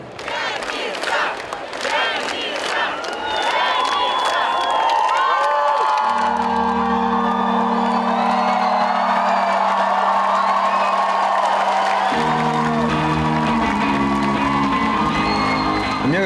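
A packed crowd at the Odessa Sports Palace cheers and whoops loudly for a band, a dense, sustained roar of voices with shouts on top, joined partway through by steady musical tones underneath.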